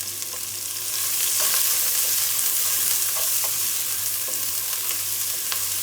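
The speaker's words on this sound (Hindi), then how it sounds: "अब हम इसके अंदर प्याज को डालकर प्याज को फ्राई करेंगे।" Onions sizzle steadily in hot oil in a pan, a dense, loud frying hiss with occasional light stirring clicks and a low steady hum beneath.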